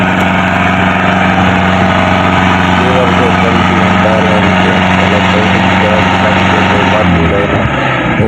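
The diesel engines of a Mahindra Arjun NOVO 605 4WD and a Sonalika 60 RX tractor drone loud and close during a tug of war in a muddy field, a continuous heavy rumble with people talking over it.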